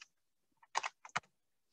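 Quick bursts of typing on a computer keyboard, a cluster of close, crisp key clicks in uneven rhythm against near silence.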